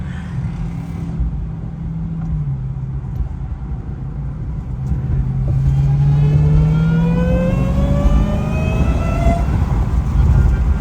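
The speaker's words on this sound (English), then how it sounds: "Damn, that supercharger loud." A Chrysler 300 engine revs up, its pitch climbing steadily under a whining supercharger, loud and close throughout.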